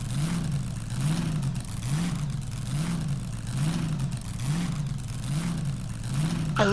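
Hot rod engine in the Vehicle Legends video game revving in a steady rhythmic cycle, rising and falling about once per second, loud and close with a faint whir.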